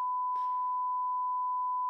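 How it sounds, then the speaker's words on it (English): A steady electronic sine beep fired from a sound pad sustains at one pitch for nearly two seconds, loud and alone, with a brief thump near the start. "or a beep"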